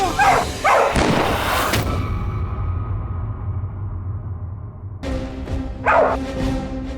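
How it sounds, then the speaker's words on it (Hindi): A dog barks in a burst of sharp, loud yaps and whimpers, goes quiet, then barks again a few seconds later, close by indoors. "अबे हटाओ इस कुत्ते को।"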